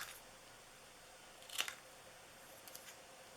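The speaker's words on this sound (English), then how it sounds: "And we're just going to cut this." Scissors make a single short snip through a paper tag cut from stamped cardstock for a Christmas treat holder, with a couple of fainter snips afterward in a quiet room.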